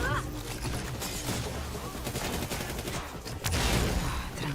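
Sustained gunfire aimed at a sniper in the game Redfall, a dense run of rapid shots at moderate level with a louder burst near the end, while a voice speaks underneath.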